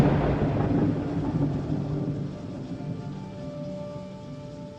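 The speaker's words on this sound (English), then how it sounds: "We kissed, and a violent storm broke out." A violent thunderstorm seen from a balcony, with a loud, sustained low rumble of thunder that swells at the start and then rolls on steadily throughout.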